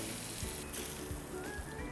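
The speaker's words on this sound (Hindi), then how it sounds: "तड़का सीधा इसके ऊपर" Hot tempering of mustard seeds, dal and curry leaves poured over fresh coconut chutney, producing a soft steady sizzle and hiss with faint scattered pops, brief and fairly quiet.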